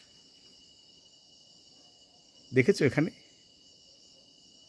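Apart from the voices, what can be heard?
crickets chirping in the evening hills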